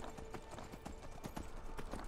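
Rhythmic hoofbeats of a galloping horse in Skyrim pound in quick repeated clusters, clear and fairly close, over a low game ambience.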